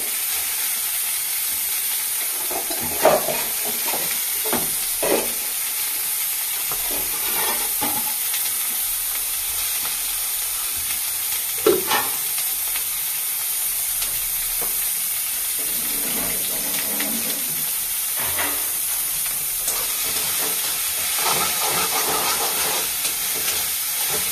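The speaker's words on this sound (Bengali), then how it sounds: "চিংড়ি মাছ বাটাটা দিয়ে দেবো।" Shrimp paste for chingri bhorta frying in a pan, a soft continuous sizzle with occasional stirring scrapes and pops, steady throughout with no talking.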